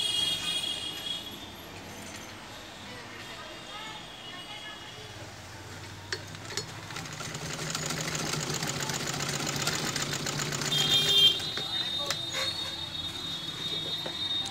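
A sewing machine stitching with loose bobbin tension runs with a steady, continuous mechanical whir and rattle for the whole stretch, a voice talking faintly over it.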